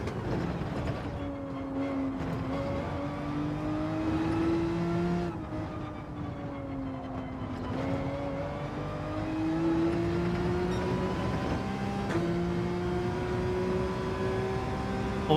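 Porsche race car engines in Gran Turismo 7 drone steadily through a lap, their pitch climbing and falling with each gear change and shift, loud and continuous with no talking.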